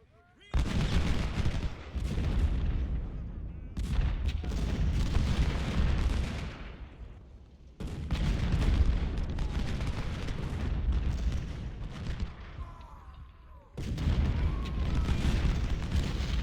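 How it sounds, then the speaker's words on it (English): A barrage of artillery from Ultimate General: Civil War booms in heavy rolling volleys, with deep blasts and crackling gunfire layered over each other, loud and sustained with short lulls between salvos, and a voice speaks faintly beneath. "It's just this never-ending string of artillery."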